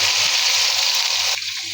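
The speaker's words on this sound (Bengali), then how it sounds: "দিয়ে দিব গরম পানি।" Hot water pours into a pan of fried onion and ginger-garlic paste, a loud rushing hiss and gush that cuts off abruptly near the end, leaving a softer bubbling simmer.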